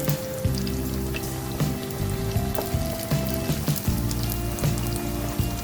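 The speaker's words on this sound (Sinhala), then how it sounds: "මේ බලන්න මේ කැවුම් ලස්සනට බැදලා තියෙනවා." Mung bean kavum sizzle steadily in hot oil in a large pan, with a constant close crackle and popping throughout and no talking.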